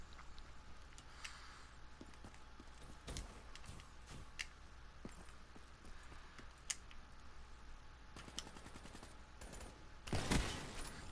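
Gunfire in the multiplayer video game Black Ops 3: scattered sharp shots and quick bursts over a low, noisy game background, with a louder burst of fire near the end.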